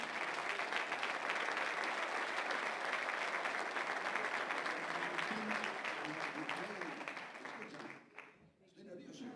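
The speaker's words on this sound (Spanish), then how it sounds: "¡Un fuerte aplauso!" Crowd applause at a tribute ceremony in As Pontes with the mayor present; sustained, loud clapping from a large audience with voices mixed in, dropping off abruptly near the end.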